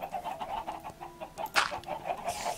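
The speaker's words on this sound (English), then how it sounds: "we've got a chicken, got a couple of chickens in there" Chickens in Minecraft cluck repeatedly in a quick uneven rhythm on an automatic chicken farm, with the calls fairly soft and running continuously throughout.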